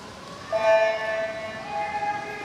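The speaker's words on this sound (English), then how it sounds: "when you hear that horn, that tells you that this is the final lap of the pool" Horn sounding at a swim meet to signal the final lap, a steady sustained tone that starts abruptly and holds for about two seconds over pool ambience.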